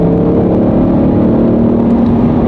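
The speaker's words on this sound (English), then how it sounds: "So right now we are in just regular normal exhaust mode, right?" A 2024 Mustang Dark Horse in normal exhaust mode pulls in third gear, giving a loud, steady, droning engine and exhaust roar heard from inside the car with no talk over it.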